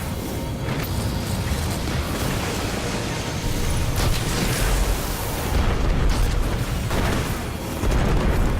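Rocket launcher cluster bombs exploding in the Destiny video game, a dense run of loud booms and rumbling blasts that swell and overlap almost without a break.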